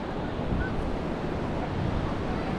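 Sea waves wash steadily onto Divegar beach, a continuous broadband roar of surf mixed with wind noise, with no voices.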